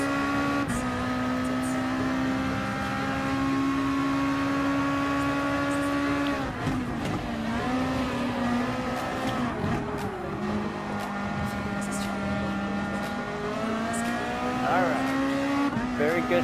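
Lexus RC F Super GT race car in Gran Turismo Sport, its engine droning steadily at a high pitch with shifting revs, faint tire squeal and passing cars, under continuous commentary.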